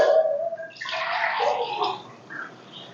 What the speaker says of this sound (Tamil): இப்போ தண்ணி வாட்டர் ஊற்ற போகிறாங்க.